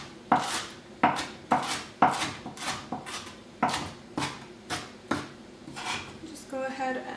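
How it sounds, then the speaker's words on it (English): Knife chopping bunched cilantro on a cutting board, about a dozen sharp rhythmic knocks at an irregular steady pace, close and clear, while someone talks. "I just end up bunching it up and kind of just mince as I go"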